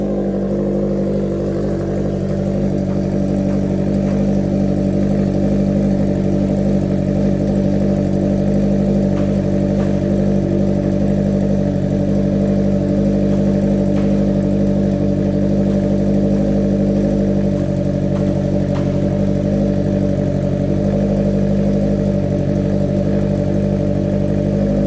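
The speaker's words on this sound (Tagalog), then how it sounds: "papakita ko sa inyo kung gaano kabilis mag-rev to" Engine of a 2022 Suzuki GSX-S liter bike with a full exhaust system, a loud, steady, close rumble sustained throughout with slight rev fluctuations.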